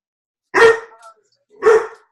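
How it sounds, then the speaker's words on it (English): A dog barks indoors at something outside: two sharp, loud, close barks about a second apart, the first trailing into a short whine. "He hears something outside that he's barking at."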